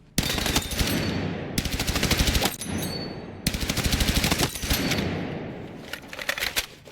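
Rapid automatic gunfire from a weapon in the video game Battlefield 6, loud, close bursts of tightly spaced shots broken by short pauses, with no talking.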